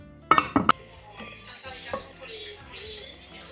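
Apple chunks go into a cocotte cooking pot in a small Paris kitchen: three quick, bright metallic clinks in close succession, followed by quieter handling clatter with a faint voice in the background.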